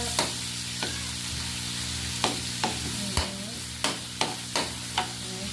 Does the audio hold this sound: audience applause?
no